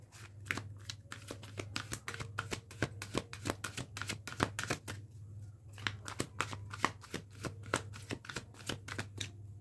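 Tarot cards being shuffled for a clarifier card, a quick run of crisp riffling flicks close by and fairly quiet, with a soft low hum beneath.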